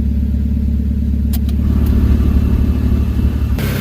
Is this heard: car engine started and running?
yes